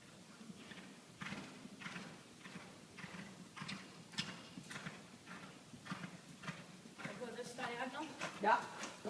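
A horse's hooves beat out a rhythmic canter on an arena surface, repeated muffled thuds spaced about half a second apart, with a rider and instructor talking over them.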